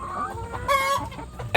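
Laying hens feeding inside a long coop in hot weather cluck and murmur close by in a fairly loud, continuous mix of overlapping calls, with a sharper squawk at the end.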